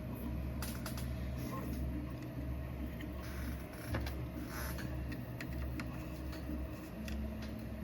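10mm screws being tightened into a soft aluminium frame give faint, scattered mechanical clicks and creaks over a steady low hum, with no voice.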